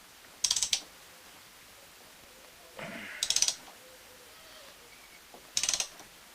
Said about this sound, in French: je prends ma clé et on va venir serrer